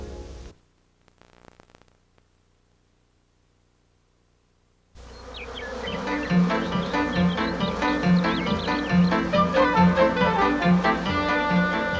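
Bees buzz around flowers in a steady, dense drone that starts after a few seconds of near silence and holds loud and close to the end, with faint musical tones underneath.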